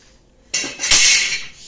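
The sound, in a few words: utensils being handled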